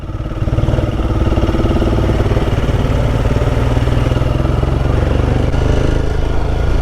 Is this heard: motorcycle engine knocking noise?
yes